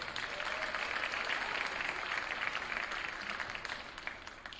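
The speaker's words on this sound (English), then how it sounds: "which is fantastic. So round of applause." Faint, steady applause from an audience at a high school winter sports awards ceremony honoring student athletes, a soft even patter of clapping that fades slightly toward the end.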